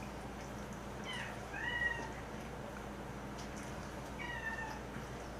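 A cat yowls twice, long drawn-out wailing cries some seconds apart, moderately distant over a steady background hum.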